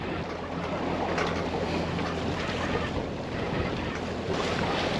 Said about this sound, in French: Alors j'ai dû remettre le moteur